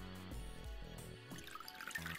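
Liquid poured in within the 999 video game, a soft trickle and dripping heard faintly among quiet synth tones and game effects.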